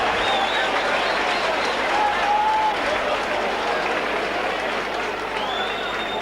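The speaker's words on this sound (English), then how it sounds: "The crowd don't like it" A stadium crowd at a 1997 rugby league match between Oldham Bears and Leeds Rhinos reacts to a refereeing decision, giving a sustained, steady roar of voices and scattered clapping that fills the whole stretch.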